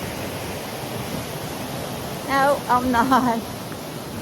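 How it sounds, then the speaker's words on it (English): A wilderness river flows along a trail in the 100 Mile Wilderness, a constant broad rushing wash in the background, while someone speaks briefly over it. "I just love the sound of the river"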